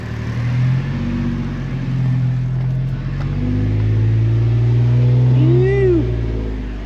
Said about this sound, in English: Just reach in there and give it a little gas.